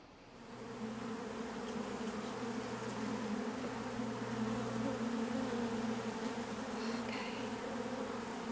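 A dense, steady drone of tens of thousands of honey bees buzzing together under an old shed floor, loud and continuous throughout, with no voices.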